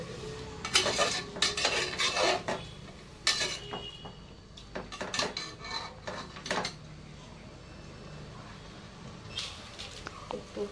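Ground garlic, onion and ginger paste fries in a pan while a metal spoon scrapes and clinks against it, in bursts with quieter sizzling between.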